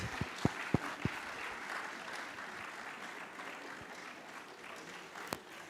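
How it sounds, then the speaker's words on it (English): Sustained clapping from a large audience at a Vienna Convention anniversary ceremony, a dense even patter with a few sharp louder claps near the start and one near the end, no speech over it. "Please keep clapping till you see him on stage."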